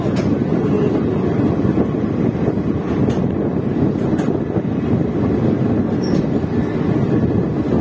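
Black Diamond Express train heard from inside a general coach on the Howrah–Dhanbad line, a steady loud rumble of wheels and rushing wind with a few faint clicks and no talk.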